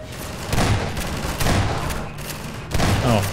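Heavy gunfire from a Strider in Half-Life 2, arriving in three loud booming bursts with sustained rattling between them, fairly close and dominating the scene.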